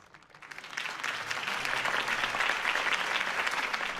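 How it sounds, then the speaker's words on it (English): A video game crowd breaks into applause, building quickly from quiet into sustained clapping that continues steadily at moderate distance. "could have heard that applause"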